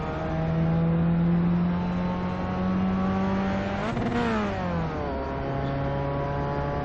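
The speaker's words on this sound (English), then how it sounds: "we could really start going fast here in our car" A race car on the Summit Point Raceway track runs a loud, steady engine drone that rises in pitch around the midpoint as it accelerates, then settles back to a lower hum.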